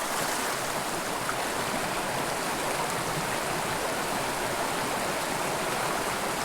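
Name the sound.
small creek stream flowing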